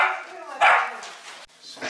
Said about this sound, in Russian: Вот этот пес мощный.